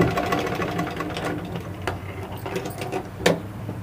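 A sewing machine runs steadily while stitching blouse fabric at a tailoring class, a continuous close mechanical whir with a couple of brief louder clicks near the end.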